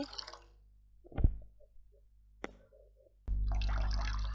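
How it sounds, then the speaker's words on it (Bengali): Water is poured onto flowers in a garden: a few soft drips and plops in near quiet, then a sudden steady splashing pour that continues to the end. "এবার এই ফুলে জল দিই, এই ফুলে জল দিই।"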